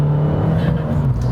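A 230 bhp Abarth 595 Competizione engine hums steadily under acceleration, a loud close droning tone heard from inside the car with a slight rise in pitch.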